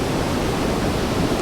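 A waterfall pours down at a steady, full roar, a dense rushing wash of falling water that stays even throughout with no voices.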